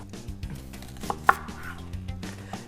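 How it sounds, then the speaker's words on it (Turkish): A knife thinly slices red onion on a cutting board, producing soft, rapid thuds at close range with a few sharper knocks. "Kırmızı soğanlarımı şöyle incecik doğruyorum."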